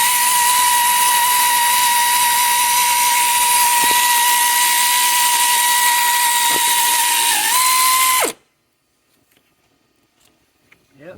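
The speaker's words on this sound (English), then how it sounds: "So I'm going to drill this thing out." Power drill boring out a spark plug insert in a 2001 Ford F250 engine, a loud, steady high whine running for about eight seconds with a brief dip before cutting off to near silence.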